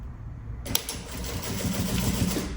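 A sewing machine stitches a backpack's folded-in lining at a long 4.5 stitch length, a steady mechanical whir and rapid needle patter running continuously from a near-silent start.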